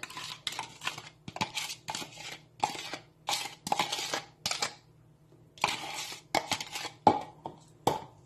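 Broccoli salad is tossed with its dressing in a bowl, giving close, irregular clinks and scraping rattles in short bursts separated by brief pauses.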